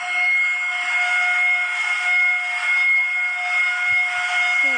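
A steady, loud steam-train whistle in a video game blows continuously, a sustained shrill tone with a hissing edge, holding on for several seconds without a break.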